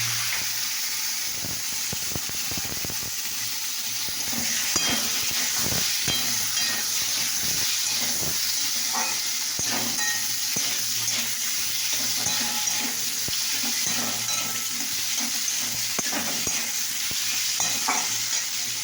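Potatoes frying in hot oil with panch phoron and bay leaf, a steady close hiss and sizzle with repeated stirring scrapes of a spatula against the pan throughout.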